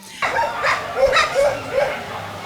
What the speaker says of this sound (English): they almost talk by yowling and howling